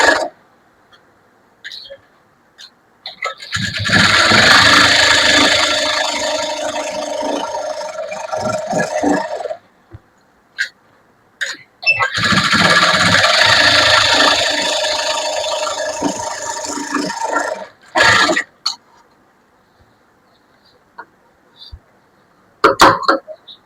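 A sewing machine stitches the lining of a blouse in two long, loud, close runs of several seconds each, separated by quiet pauses and short bursts of handling and stitching.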